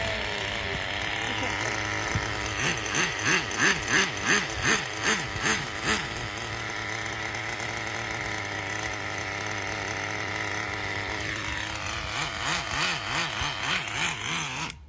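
Small engine idling steadily once warmed up, a continuous close mechanical drone with a rhythmic pulsing clatter that swells in the middle and again near the end.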